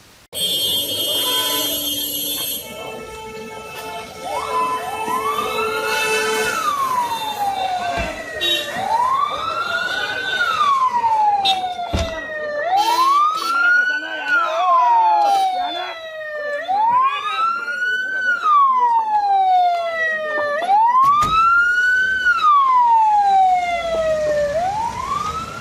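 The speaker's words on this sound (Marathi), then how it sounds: "सायरन वाजविणारी अँब्युलन्स मागे पडली होती" An ambulance siren in a ministerial convoy heading to an airport wails loudly and close by, rising and falling in repeated long sweeps for about twenty-five seconds over traffic noise.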